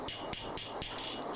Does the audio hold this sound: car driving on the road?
no